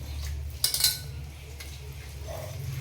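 Metal pots and utensils clink and clatter in a home kitchen during morning cooking, with a short burst of knocks followed by quieter handling over a low background hum.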